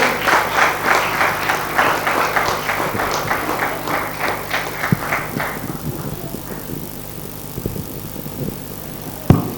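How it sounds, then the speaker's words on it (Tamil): Audience at a Tamil stage program breaks into strong, rhythmic clapping, loud and steady for about six seconds before thinning out into scattered claps and quiet room noise. "அவர்களை பலத்த கரகோஷத்தோடு"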